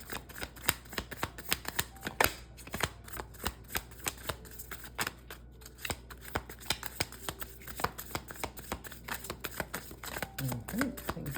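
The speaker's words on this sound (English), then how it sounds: "One more shuffle." Tarot cards are shuffled during a reading in a run of quick, crisp riffling snaps and soft slides up close, while a person talks quietly over them.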